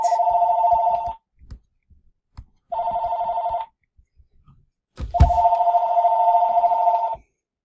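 A landline telephone rings loudly and close in three electronic trills with short pauses between them, and faint rustling in the gaps.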